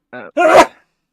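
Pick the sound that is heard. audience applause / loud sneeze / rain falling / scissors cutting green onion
loud sneeze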